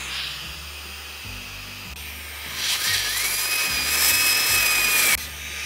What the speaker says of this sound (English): Let's go ahead and test the blow strength here really quick.